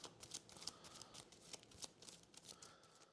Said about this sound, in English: Let me shuffle these.